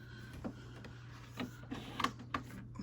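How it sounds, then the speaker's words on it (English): Home inkjet printer pulling a sheet of paper through while printing DIY business cards at a cluttered desk, with a steady low motor hum under a few soft clicks and scattered mechanical clunks, close by and fairly quiet. "So I'm gonna feed it into my printer"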